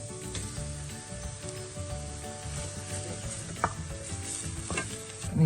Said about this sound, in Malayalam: ഇനി കുറച്ച് ക്യാപ്സിക്കം ഇടുക. അതിന് ശേഷം പൊട്ടറ്റോ ഇട്ട് മിക്സ് ചെയ്യുക.